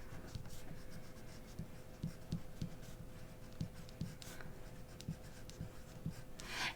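A colored pencil scratches across paper writing a name, quiet rhythmic strokes and small taps, close and faint with no talking.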